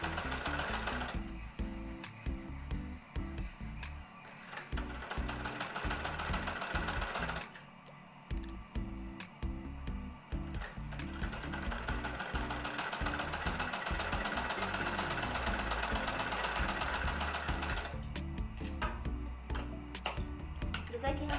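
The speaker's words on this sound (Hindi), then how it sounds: "हम इसको सिल रहे हैं।" An electric sewing machine stitches a blouse in long, rapid mechanical whirring runs, stopping briefly twice before starting again, while a voice talks faintly underneath.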